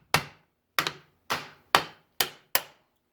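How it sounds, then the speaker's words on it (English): A mallet strikes the side of a 1963 Evinrude 10 HP outboard lower unit six times in an uneven rhythm, each knock sharp and close and ringing off quickly. "you can get a mallet, just kind of tap the side here"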